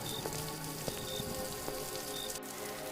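Cartoon-style rain falling at night, a steady dense patter with scattered individual drops splashing on surfaces, continuous and fairly loud throughout, with no voices.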